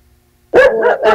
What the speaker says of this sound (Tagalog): Nagalit na aso mo dyan.